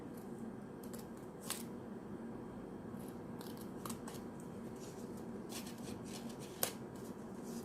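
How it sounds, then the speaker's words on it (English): Scissors snip V-shaped notches into paper while crafting a paper toothbrush, giving a few sparse, quiet crisp snips over a soft steady background hiss. "So we will give a V cut over from here, from the end of the bristle, and here a V cut, a slight V cut."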